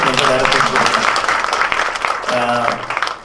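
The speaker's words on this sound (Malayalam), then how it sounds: "ഒരു നല്ലൊരു കൈയടി" Applause from an audience at a film event as a director is called to the stage, clapping mixed with a speaking voice over the top.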